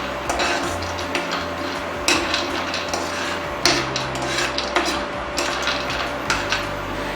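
Dry nuts and raisins are stirred continuously in a pan on a stove, giving repeated scraping rattles and sharp clinks of the spoon against the metal at an uneven rhythm.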